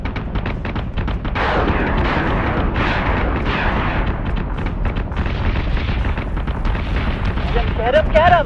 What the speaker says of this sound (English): you should be able to fire your missiles